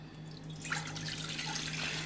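Water is poured from a measuring cup into a container while making a shampoo base, giving a steady, close splashing flow with a faint underlying hum and no talking.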